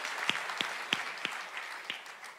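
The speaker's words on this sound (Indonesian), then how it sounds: "Beri tepuk tangan yang meriah bagi Tuhan." Church congregation applauding during a worship service, a steady wash of clapping with several sharper individual claps standing out, moderately distant and fairly soft.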